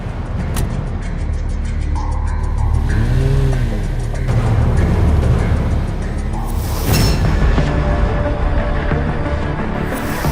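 A car drives steadily with a loud, close engine rumble and road noise, easing off toward a stop near the end, with no talk over it.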